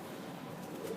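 Soft, steady cooing of a pigeon on a Sialkot rooftop loft, a low murmuring coo carrying under broadband background noise, continuous and moderately faint across the moment.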